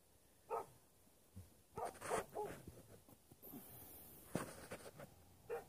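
A dog barks far away across an open field in a snowy rural setting, faint scattered single barks and yips spread over several seconds against a quiet outdoor background.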